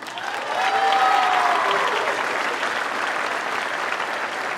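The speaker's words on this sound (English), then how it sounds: "Next up, round of applause for Maddie Bessie." A crowd in a school gymnasium applauds at an all-city band concert, a sustained, even roar of clapping that fills the space, with a faint tone briefly audible underneath.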